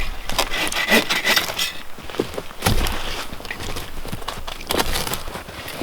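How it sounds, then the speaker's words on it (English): A hand saw cuts down logs at a winter bushcraft camp, giving rough, rhythmic rasping strokes on wood, close and fairly loud, with scraping and rubbing between strokes and no talking. "We're going to try just sawing them down."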